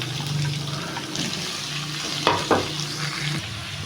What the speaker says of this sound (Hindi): यहाँ पे हमने प्याज को हल्का सा पिंक होने तक फ्राई करना है।